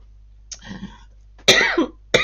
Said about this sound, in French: j'ai une quinte de toux